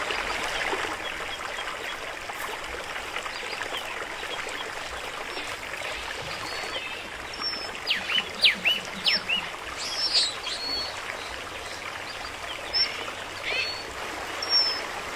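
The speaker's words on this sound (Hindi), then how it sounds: "घाटी की तलहटी में मौजूद ये पानी 600 मीटर ऊंचे पहाड़ों से बहकर नीचे आता है।" A mountain stream trickles steadily into a valley floor in a Tanzanian national park, a soft continuous babble with faint birdsong calling intermittently over it.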